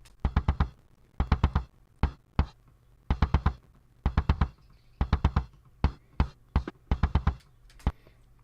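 Punchy kick drum hits in a repeating pattern, EQ-boosted at 1 kHz, each thump carrying a bright, knocky midrange attack, played alone and fairly loud.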